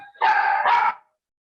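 A dog gives one loud, drawn-out bark close by during an online postgraduate class session, then stops and leaves silence.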